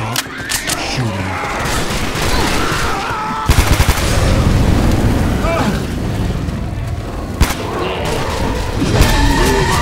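Dense gunfire in the zombie shooter Left 4 Dead 2, with sustained rapid automatic bursts and thumping shots filling the whole stretch, loud and close, mixed with game noise and occasional voices.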